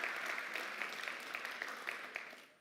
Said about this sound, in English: let's give all of our startups a round of applause